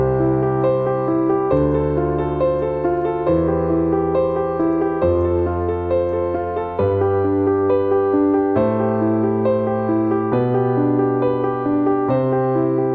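A piano plays triad arpeggios starting from the top note, running down and back up, one note at a time in an even rhythm through a series of chord changes, played solo and close.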